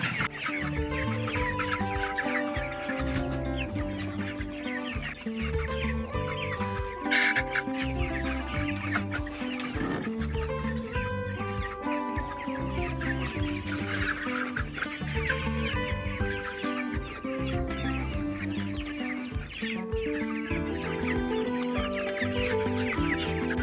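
A flock of about 115 growing chickens clucking inside a poultry coop over fresh bedding, dense overlapping clucks and chatter that stay steady and close throughout, with no talking.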